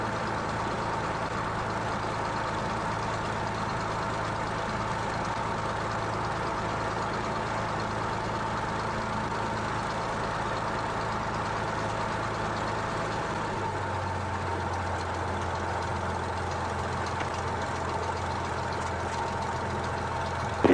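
A small aircraft engine doing its run-up before takeoff gives a continuous, steady droning hum that holds for a long stretch, then settles into a lower, softer tone about two-thirds of the way through.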